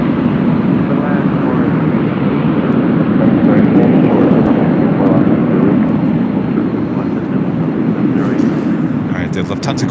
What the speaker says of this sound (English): We'll concentrate on the Delta A321 taking off on 24 left, and she will do a bank left-hand turn.